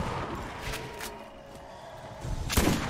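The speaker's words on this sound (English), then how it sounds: "Already re-employing this machine gun." Machine gun fire in Borderlands, heard as a few scattered sharp shots and thumps over a low rumbling background, ending with a louder, heavier blast.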